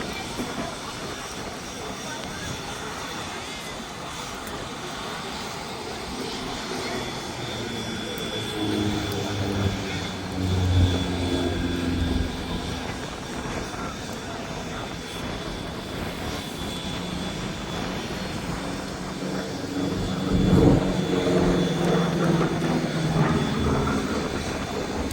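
A P-47D Thunderbolt flies a display at Duxford, its piston engine droning and swelling as it passes, rising to louder peaks near the middle and end, with a commentator talking over it.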